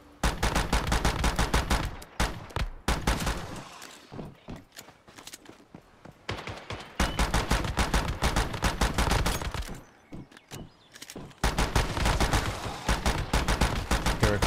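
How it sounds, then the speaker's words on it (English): Automated turrets in a video game fire in rapid sustained bursts, dense rattling volleys of gunshots that pause and resume several times, loud and close with no talking over them. "And my turrets are going ham."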